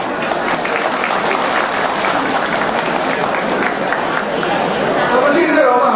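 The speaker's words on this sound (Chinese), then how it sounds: "我们再次鼓掌" An audience claps loudly and continuously at a large Chinese New Year celebration held in Hong Kong for alumni of Chinese schools in Jakarta, Indonesia. The dense clapping is mixed with crowd chatter and holds steady for several seconds.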